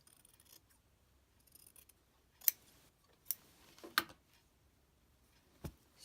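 Scissors cut away excess quilt binding fabric in a few sharp, separate snips, close and quiet, with faint handling rustle between them.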